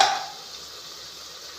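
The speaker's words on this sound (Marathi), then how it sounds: "टोमॅटो आणि थोडी मिरची. हे पण 2 मिनिटं आपलं असं हे थोडं परतून घ्यायचं." Tomato and chili being sautéed in a pan over onion and potato, a brief soft sizzle with a light stirring scrape at the start, then a quiet steady frying hiss.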